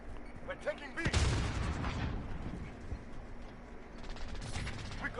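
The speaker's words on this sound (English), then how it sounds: "Grenade out!" A grenade blast followed by sustained gunfire in a Call of Duty multiplayer match, a loud burst around the one-second mark giving way to continuous rattling fire and battlefield noise, with a voice calling out over it.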